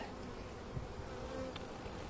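Anatolian honeybees buzz inside a hive in early spring after winter, a soft, steady drone close by with no other sounds.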